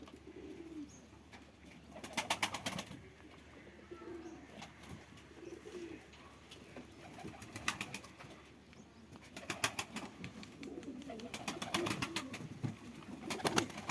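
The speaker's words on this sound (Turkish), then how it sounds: "Oğlum uçma diye kuş çıkartıyoruz. O da uçuşa geçiyor." Pigeons take flight after release, with bursts of wing flapping at several moments and faint cooing between them, close by and fairly quiet, with no talk.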